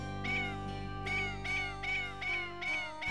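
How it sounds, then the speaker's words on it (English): Cat meowing in the video game Tales of Destiny: about six clear, evenly spaced meows over a steady drone of in-game background music. "Hey, a cat."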